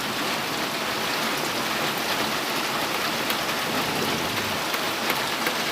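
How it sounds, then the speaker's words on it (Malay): Heavy rain pours steadily, a dense hiss of drops hitting surfaces with no break, fairly close and unbroken by voices. "Okey, kita kongsi momen ni. Suasana hujan."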